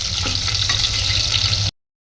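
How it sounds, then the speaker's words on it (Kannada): Food sizzles and fries in hot oil in a home kitchen. The crackle is loud and steady for almost two seconds, then cuts off abruptly. "ಒಂದು ಸ್ವಲ್ಪ ಫ್ರೈ ಆಗಲಿ ಅವು ಎಣ್ಣೆ ಒಳಗೆ"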